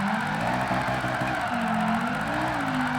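An all-wheel-drive car drifting in Gran Turismo 7, held in fifth gear around a long corner, gives a loud continuous tire squeal over a steady engine note, with the pitch shifting slightly partway through.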